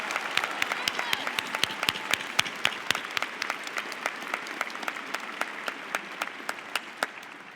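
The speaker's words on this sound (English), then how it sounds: "please join me in a hearty round of applause for congratulating all our special award" Steady applause from a commencement audience for award recipients, many hands clapping at moderate distance, with individual sharp claps standing out above the wash.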